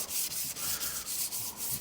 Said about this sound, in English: I'm gonna take my finest grit sandpaper, and we are just gonna go in and very lightly sand